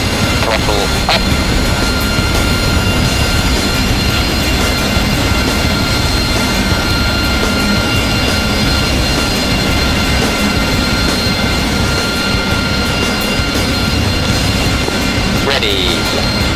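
Jet engines spool up to full throttle in the DCS flight simulator, a loud, steady broadband roar with a high whine that holds for the whole stretch, with radio voices faintly over it.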